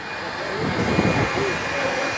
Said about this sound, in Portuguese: José Roberto Ribeiro é o nome dele, a bordo do AJR65 com motor V8.